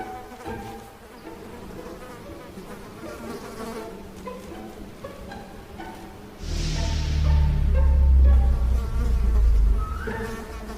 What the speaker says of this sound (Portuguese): E de novo, uma mosca é capaz de acabar com o clima.